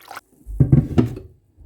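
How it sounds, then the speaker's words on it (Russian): Water poured into a cooking pot of seasoned sauce with oregano, ground chili and salt, a short splashing gush after a faint first splash, close and fairly loud with no talking. "Заливаю водой."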